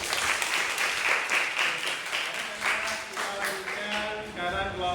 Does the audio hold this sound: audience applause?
yes